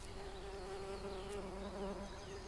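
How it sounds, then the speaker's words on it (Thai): Buzzing fly in the Reveil video game demo, a steady droning hum with a wavering tone that holds for the whole stretch, fairly close and alone with no voices. "เสียงแมลงวันด้วย"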